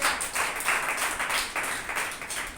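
A congregation claps during a Sunday church service, a few seconds of continuous, fairly close clapping with rhythmic pulses and no talk over it.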